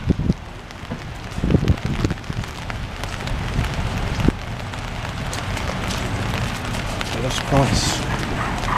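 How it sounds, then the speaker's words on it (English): Steady rain patters on a hard surface outdoors outside a store, a continuous wash of drops with people talking over it and occasional louder knocks. "it's raining when we came out the store"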